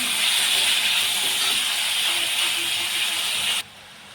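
Chopped onion frying hard in a pan over a high gas flame, a steady loud broadband sizzle and hiss close by that cuts off abruptly near the end, with no talking.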